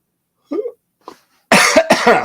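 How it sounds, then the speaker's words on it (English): A soft, drawn-out yawn-like vocal sound, a short pause, then two loud, close coughs in quick succession. "that's a yawn and a cough all at the same time"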